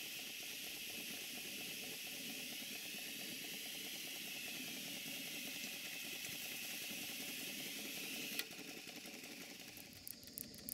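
A Stuart Models No. 4 model steam engine runs in a garden, giving a steady continuous hiss and mechanical churn close by, with a sudden shift near the end to sharper, intermittent ticking beats.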